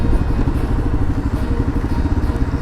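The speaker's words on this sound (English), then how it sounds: "a very quiet little bike" A Royal Enfield Himalayan motorcycle engine runs with a steady, quiet single-cylinder thump. The pulses are rapid and even, with light mechanical clatter close by and no talk.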